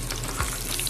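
Chicken burger patties frying in a pan, a brief, even, close sizzle with a faint bubbling undertone.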